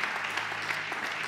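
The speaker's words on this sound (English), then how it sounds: "Can you give him a hand clap of praise?" A church congregation gives a brief burst of steady hand clapping in praise, a dense patter of many hands heard close and alone.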